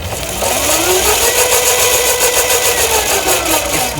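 A 1300w electric ATV drives forward, its motor giving off a loud steady whine that rises and wavers in pitch over a continuous rumble, close and without pauses.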